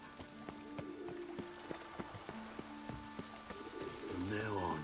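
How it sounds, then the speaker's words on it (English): Steady rain hisses in The Witcher 3: Wild Hunt, a dense wash under sparse footsteps and clopping, with a voice speaking briefly near the end. "Looks like rain."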